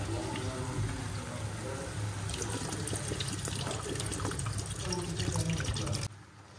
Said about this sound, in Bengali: চলো হয়ে গেল, জল ঢেলে দিই।